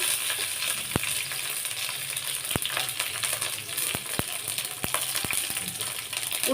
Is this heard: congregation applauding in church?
no